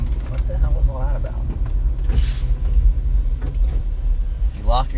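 A car's power window motor whirs in short bursts inside a vehicle, over a low engine rumble, with a voice speaking nearby.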